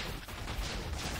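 Fireworks exploding in Minecraft, heard as a dense, steady crackle of blasts running through the whole short stretch at moderate level.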